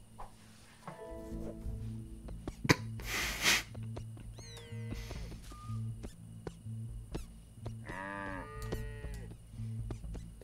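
Cartoonish cows moo repeatedly in What the Golf, several calls overlapping across the scene alongside bright game effects and a steady background hum, with no talking.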